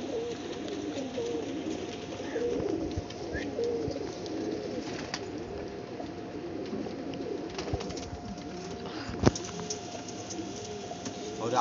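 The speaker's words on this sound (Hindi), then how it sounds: "आप बोले ये कबूतर नहीं तो भी अच्छी कबूतरी है" Banarasi cross pigeons, a male and female pair, coo in low repeated rolling calls close by, layered over a steady background hum with faint rumbling in the distance.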